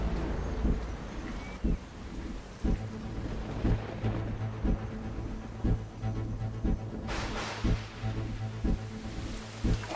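Heavy rain with big, fat drops pours steadily while low rumbles of thunder roll through, with regular rhythmic thumps under the downpour and a brief surge of louder rain.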